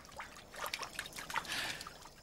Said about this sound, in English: This lizard runs so fast it can run right across the water's surface.